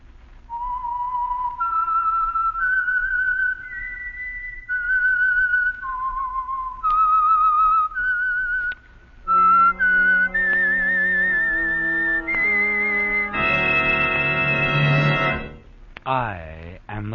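A sequence of whistled notes, the signature tune of the Signal Oil radio program The Whistler, climbs through steady held pitches before an orchestral chord swells in and fades to a brief tail.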